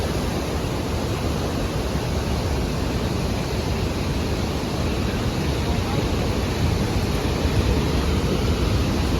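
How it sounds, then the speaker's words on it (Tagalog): Loud, continuous rushing roar of a waterfall in Norway, spray splashing, dense and unbroken throughout. "Talsik-talsik talaga yung tubig."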